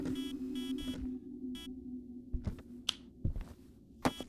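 In the ghost-hunting game Demonologist, an EMF reader gives several short electronic dings and beeps in quick bursts, followed by softer clicks and thumps in a quiet room.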